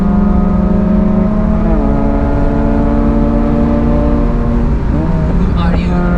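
A Mercedes E36 AMG W124 Cabrio runs loud and close on the Nürburgring, its engine note stepping through downshifts and climbing again under acceleration, with the steady drone of the car throughout.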